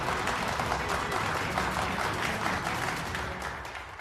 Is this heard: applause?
yes